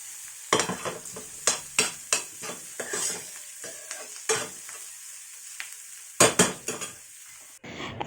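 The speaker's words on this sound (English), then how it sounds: "Saute the ingredients in the pan until the onions are light pink and the garlic has browned a little" Onions and garlic sautéing in a pan for a moong sprout stir fry, with a low sizzle broken by sharp clattering strokes of a spatula against the pan, close, irregular and without speech.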